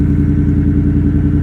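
A race truck engine runs steadily while driving on a rainy, icy day, a loud, close, low throbbing drone with an even pulsing rhythm and no talking.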